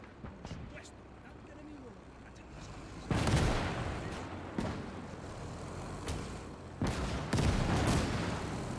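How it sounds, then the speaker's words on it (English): Anti-tank gun in WW2 game Call to Arms firing at enemy tanks: several loud heavy booms spaced a few seconds apart over rumbling battlefield noise, with someone talking throughout. "AT gun doing whatever it can to try to stop the enemy tanks"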